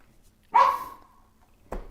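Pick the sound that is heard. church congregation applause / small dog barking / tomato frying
small dog barking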